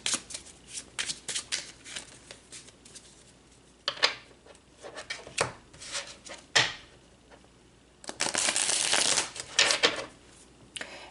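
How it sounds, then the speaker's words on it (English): Tarot cards being pulled and handled during a reading: repeated crisp shuffling and riffling bursts with short card slaps, close and fairly loud, with a longer dense shuffle near the end and no talking. "let's pull some more cards."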